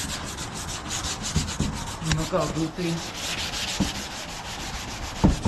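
Glazing putty filler being hand-sanded on the trunk lid of an Infiniti G35, a steady scratchy rubbing that runs continuously at close range, with a brief spoken remark partway through.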